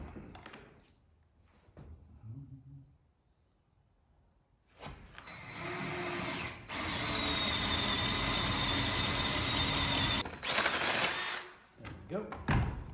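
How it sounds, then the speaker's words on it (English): A power drill bores into an ICF wall block. It starts after a quiet stretch of handling noise and runs steadily for several seconds, with brief pauses and a rising whine. "Now I just gotta drill a hole in it."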